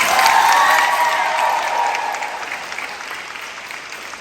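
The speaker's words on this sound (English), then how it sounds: "Another round of applause for Macie and Coach Miss Ann" Banquet audience at a school sports awards ceremony applauding an award winner, dense sustained clapping that starts loud and full and gradually thins and fades over several seconds, with no talk over it.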